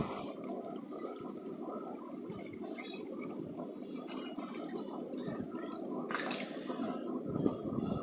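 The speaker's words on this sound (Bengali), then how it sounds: "এখন পানিটা দিব তো চলুন পানিটা দিই" Water pours and splashes steadily for several seconds into an aquarium, one mug at a time, with a brief louder gush near the end.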